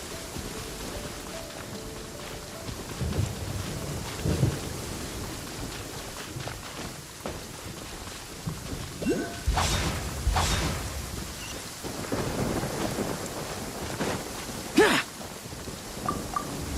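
Steady rain hissing in the video game Genshin Impact, with scattered heavier thuds and low rumbles of thunder breaking through at intervals, no voices present.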